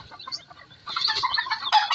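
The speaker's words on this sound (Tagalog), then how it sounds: "Ito naman guys yung aming manok." Chickens cluck and squawk close by, starting with soft scattered clucks and then breaking into a louder, busier chorus.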